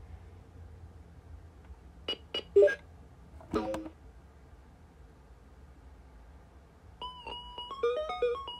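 Super Simon 2003 electronic game, apparently failing, giving faint irregular clicks and brief tones, then a short run of warbling beeps near the end over a quiet hum.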